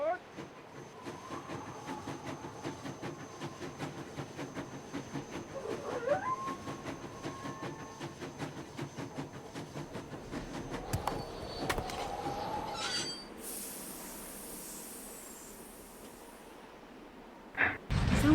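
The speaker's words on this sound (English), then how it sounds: "Sounds like the train's leaving." A train pulls away in the Nancy Drew: Last Train to Blue Moon Canyon video game, with rumbling, rhythmic rail clatter and a brief squeal, then a quieter hiss and a final clunk, with voices heard along the way.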